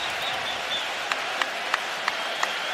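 Toronto Raptors fans in a basketball arena making a steady, loud crowd roar with scattered clapping, a few sharp claps standing out over the continuous wash of noise.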